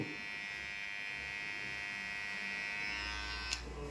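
Electric hair clipper buzzing steadily while cutting hair for a round cut in a barbershop, a close continuous motor drone with harmonic whine that shifts slightly near the end, with no talking.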